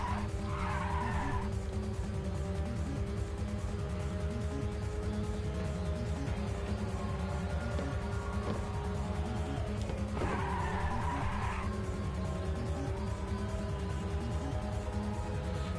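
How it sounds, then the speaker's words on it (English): Racing car engine from the Ridge Racer 2 video game holds a loud, steady drone throughout, with two bursts of hissing nitrous boost rising over it, one at the start and a stronger one near the middle. "Somebody fired off some nitrous."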